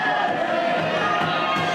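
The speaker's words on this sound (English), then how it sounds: "And listen to the crowd. They absolutely love it." A wrestling arena crowd cheers in a steady, dense roar of many voices that stays loud and unbroken throughout.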